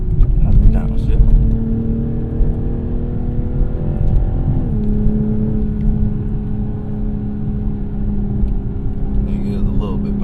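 A Toyota GR Supra engine drones steadily while driving, then drops pitch with a downshift partway through, with a pop of the exhaust, under a constant road rumble and occasional talk in the cabin.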